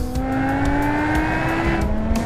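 A 2006 BMW M5 with a naturally aspirated supercar-style engine roars at high revs, a loud, sustained, rising howl that stays close and unbroken for the whole stretch.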